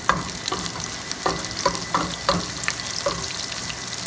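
Onions browning in a hot pan on high heat for a Fijian-style curry, a steady sizzle with repeated stirring scrapes roughly every half second, close and clear with no talking.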